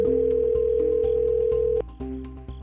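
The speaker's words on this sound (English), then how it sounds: "The phone's going to ring again." A telephone signal plays as a steady electronic tone over a rhythmic pulsing beat, cutting out near the end and resuming more quietly, with no talk.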